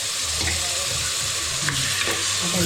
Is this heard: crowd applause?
no